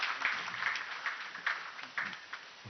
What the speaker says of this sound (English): Another round of applause to Madam Speaker.